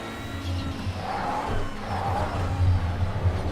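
Porsche racing car driving in a racing video game, a steady engine drone with a low rumbling tone and faint tyre noise, moderately loud and continuous.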